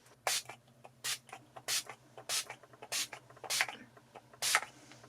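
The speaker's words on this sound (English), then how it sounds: "give myself a spray of the same stuff I used at the beginning" Makeup setting spray is misted from a pump bottle in a series of about eight short, close hissing bursts at a quick, fairly even rhythm.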